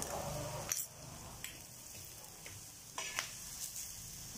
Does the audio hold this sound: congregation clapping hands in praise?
no